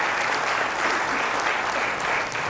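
A round of applause from a live audience, dense and continuous clapping from many hands, close and steady throughout.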